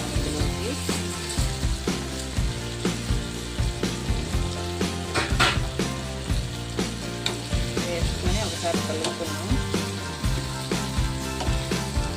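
Fried bitter gourd pieces hit a hot pan of softened tomato and sizzle loudly and steadily, with constant frying crackle and occasional stirring scrapes, close up and with no voices.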